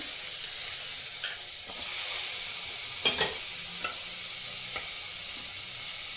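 A tomato frying in a pan with a single drop of oil, a steady close sizzle with a few light spatula scrapes and taps scattered through it.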